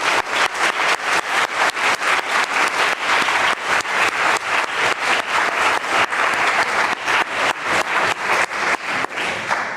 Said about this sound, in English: I'd just like you to show your appreciation with a big round of applause for them and their work.